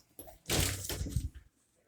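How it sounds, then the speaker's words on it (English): A shower door latch in a 2019 Bounder 33C RV clicks and thuds through a short burst of handling, about a second of close rattling and knocking before it goes quiet. "latch for the shower door"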